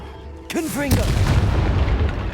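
In Hogwarts Legacy, the Confringo blasting spell fires with a short whooshing cast and then a loud, close explosion boom. A rumbling tail follows, and voices are heard over it.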